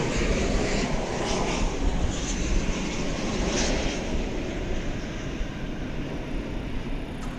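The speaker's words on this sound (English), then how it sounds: "That was Flight 662 to Denver, an Airbus A321" An Airbus A321 jet at DFW Airport at night gives a broad, sustained engine roar with a rushing rumble, loud and fairly close, holding steady and fading slightly toward the end, with no voices.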